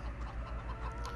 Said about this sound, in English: Got some chickens.